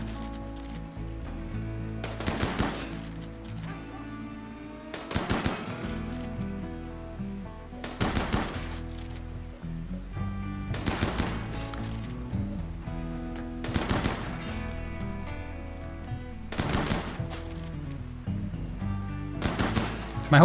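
Colonists firing guns in the video game RimWorld, with bursts of rapid gunfire roughly every three seconds and a steady low ambient bed between volleys, moderately loud and evenly repeating.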